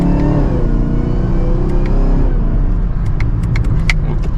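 A 2024 Chevrolet Camaro ZL1 builds speed on the road, its engine rumbling and rising loudly from inside the cabin, with clicks and ticks near the end.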